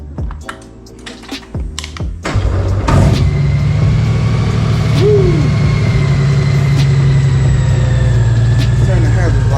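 A Honda Gold Wing motorcycle cranks with a few clicks and thumps, then its engine catches at about three seconds and settles into a loud, steady idle that runs to the end, with brief talk early on.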